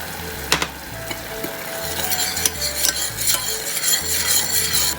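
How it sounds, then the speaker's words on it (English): A spoon scrapes and stirs a sauce of vinegar, soy sauce and sugar in a pan, with steady rubbing strokes over a soft sizzle and no voices. "Just give a gentle stir."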